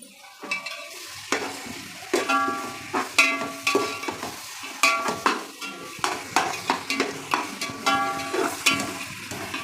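Tomatoes sautéing with salt in a pan for a quick kuska biryani, a steady close sizzle broken by repeated scraping stirs of a utensil against the pan, with no talk.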